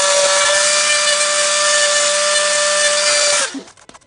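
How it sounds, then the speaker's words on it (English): A Dremel rotary tool whines loudly and steadily for about three and a half seconds while chipping battle damage into a plastic Revell Millennium Falcon model kit, then spins down and stops. "So I'm using a Dremel."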